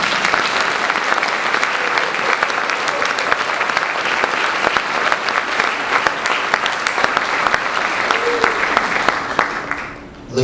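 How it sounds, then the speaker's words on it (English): An audience at a Tuskegee Airmen honor ceremony applauds Colonel Williams, a dense, sustained round of clapping that holds evenly for about ten seconds before tapering off at the end. "Please join me in a round of applause for Colonel Williams."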